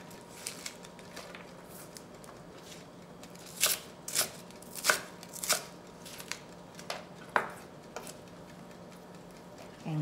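A knife cuts ingredients for jjamppong, a spicy Korean seafood and meat noodle soup, on a cutting board. A quiet stretch gives way to a cluster of sharp, irregular taps and knocks near the middle, close and moderately loud, with a low hum behind and no talk.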